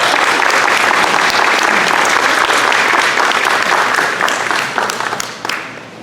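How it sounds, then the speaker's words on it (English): A big round of applause fills a community tribunal on pesticide use and civil rights in Lindsay, California, dense steady clapping from the crowd that holds loud for several seconds, then thins and tapers off near the end. "So let's give her a big round of applause."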